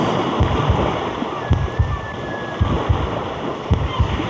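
Ocean waves wash steadily at the sea's edge, a continuous broad roar of surf and wind with soft low thumps recurring every half second or so, with no voices.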